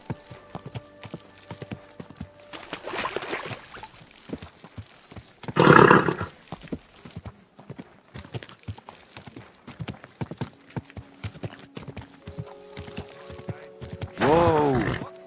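Horse hooves clip-clop steadily in a medieval-setting video game, with a couple of louder snorting or roaring bursts breaking in before the hoofbeats carry on.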